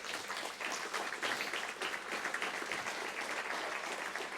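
Faint, distant applause from a congregation for house group and sector leaders, a steady soft wash of clapping with no voices over it.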